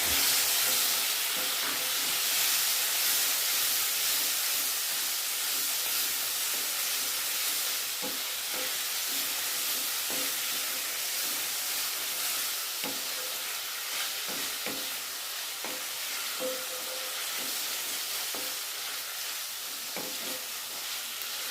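Chopped tomatoes frying in a pan for dhaba-style matar paneer, with a continuous dense sizzle and occasional soft knocks of stirring throughout.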